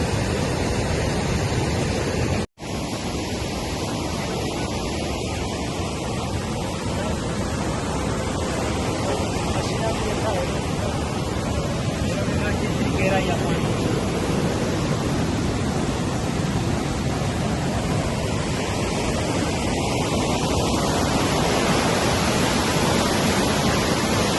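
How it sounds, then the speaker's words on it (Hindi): Forceful water rushing through a dam in Balochistan, a loud, continuous broadband roar that stays steady throughout, with one brief dropout near the start and no voices. "तो दोस्तों देखिए कि कितना पानी तेज़ से आ रहा है"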